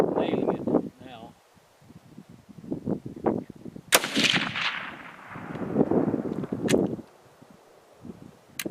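A Remington 700 BDL Custom .30-06 rifle with a semi bench rest stock fires one sharp, loud shot at an outdoor shooting table, ringing out between stretches of someone talking.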